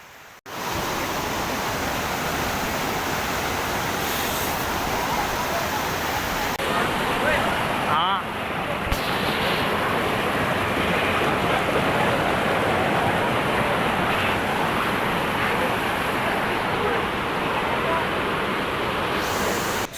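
The ice-cold Yamuna river, fed directly by a glacier near Yamunotri, rushes loudly and continuously, a dense, unbroken roar of flowing water heard close by.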